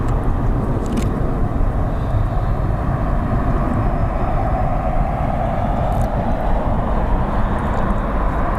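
Airplane at London Heathrow Airport, a loud continuous jet engine roar held steady throughout, close and unbroken.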